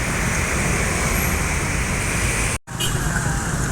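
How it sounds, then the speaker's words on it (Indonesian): A Sumbar intercity bus on the Jakarta–Padang route pulls into the terminal at night. A loud, steady engine roar and road noise continue throughout, broken once by a brief dropout. "Nah, ini unit yang keempat bus sumbar masuk kembali."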